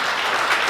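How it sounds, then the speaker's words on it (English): Audience applause at a town hall meeting, a brief, steady wash of many hands clapping close by, with no talk over it. "Why don't you give yourself a round of applause?"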